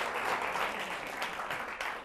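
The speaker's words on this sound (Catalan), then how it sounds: "Aquest aplaudiment és per tu" Studio audience on a televised letter quiz show applauds a contestant, a brief, even wash of many hands clapping at moderate distance, fairly quiet overall.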